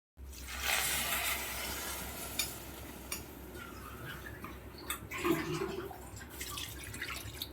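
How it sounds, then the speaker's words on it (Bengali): Chana masala stirred in a cooking pan, a steady soft sizzle with scraping and occasional clinks of the spoon, close and moderately quiet, no talking. "এই সময় আমি একটু চানা মশলা দিয়ে দিচ্ছি একটু নাড়িয়ে চাড়িয়ে নিচ্ছি চানা মশলাটা দিয়ে"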